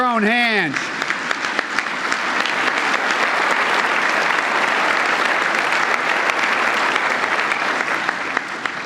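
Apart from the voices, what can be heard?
audience clapping at press correspondents dinner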